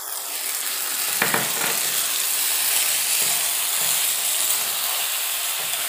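A cornflour and water slurry is poured into a pan of chilli pork over full flame, the steady loud sizzle and hiss jumping with a few sharp bursts as the liquid hits the hot pan.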